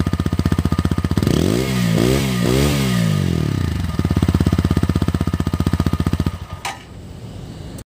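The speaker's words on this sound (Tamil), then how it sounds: "நம்ம வந்து 164V வந்து எக்ஸாஸ்ட் நோட் வந்து கேட்போம்." A TVS Apache RTR 160 4V motorcycle idles with a steady, close exhaust thump, then revs sharply three or four times in quick bursts before settling back to idle, with a brief word spoken near the end.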